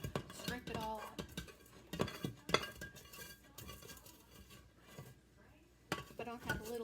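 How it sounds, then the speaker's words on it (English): Sharp scrapes and clinks of a utensil dragging leftover Rice Krispy treat mix out of a pan come in irregular bursts with pauses between, close and fairly quiet. "I don't like to leave stuff in the pan. Scrape it all out."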